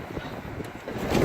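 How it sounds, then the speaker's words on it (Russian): Hard blizzard wind in Yakutia buffets a balcony, giving a steady, rushing roar with gusts that swell louder toward the end. There is no talking. "Смотри, ебать, как задувает нас сейчас"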